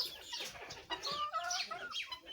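Guinea fowl on a small experimental farm give repeated chattering, clucking calls, nearby and moderately loud, several overlapping in quick bursts.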